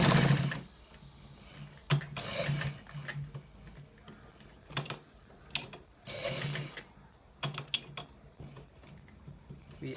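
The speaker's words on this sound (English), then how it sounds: "So guys, we are stitching it." A sewing machine stitches a simple shirt collar in repeated close bursts of rapid mechanical whirring and clatter, separated by short pauses, with no talking.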